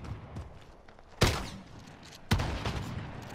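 Two loud, sharp shotgun blasts in a video game, the first about a second in and the second roughly a second later, each ending in a short booming tail over steady low game ambience.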